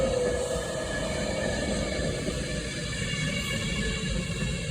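A Class 390 passenger train arrives, rumbling steadily nearby at Rugby on the West Coast Main Line, with a constant mechanical hum and a faint tone fading early, no talking.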